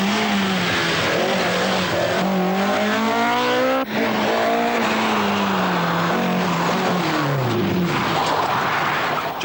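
A rally car on the 1982 RAC Rally driving hard at speed, its engine loud and close, revving up and down through gear changes with a sharp drop partway through and tyre noise underneath.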